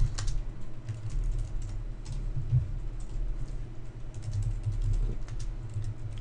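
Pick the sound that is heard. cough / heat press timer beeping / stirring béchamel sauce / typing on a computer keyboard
typing on a computer keyboard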